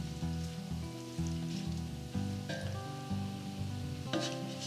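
Hakka noodles with green onion sizzle as they are mixed in a hot pan, a soft hiss and light stirring beneath steady background music.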